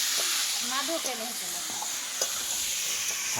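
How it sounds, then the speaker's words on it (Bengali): Fish frying in a pan: oil sizzles and crackles steadily, with light stirring and a few brief clinks, no talking. "আর এই মাছ ভাজা"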